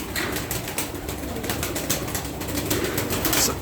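Tumbler pigeons in a loft coo and rustle in a dense, steady jumble of soft calls and wing flutters, fairly close and continuous throughout with no voices.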